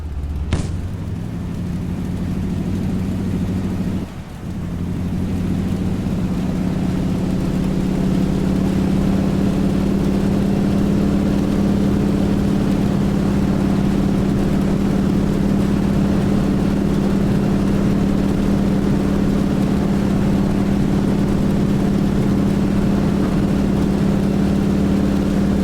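A simulated A2A T-6 aircraft engine in Prepar3D drones loudly and steadily through the takeoff run, a deep rumbling hum that holds constant after a brief dip early on.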